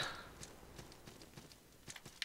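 Horse hooves clopping in the dark fantasy video game Salt and Sanctuary, with soft, spaced hoof thuds at a distance and a few sharper knocks near the end, faint overall.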